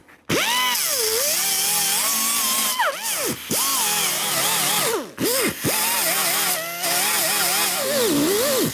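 An angle grinder loudly grinds down plug welds on a sheet-metal panel during MIG welding repair work, a continuous whining, sweeping pitch that rises and falls with the load, briefly easing off a few times.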